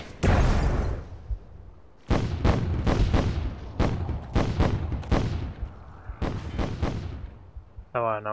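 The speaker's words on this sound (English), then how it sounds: "Now I see it explode." Explosions burst repeatedly in the fantasy battle game Myth II: Soulblighter, a rapid series of loud booming blasts in irregular clusters, some overlapping, each decaying quickly into the next.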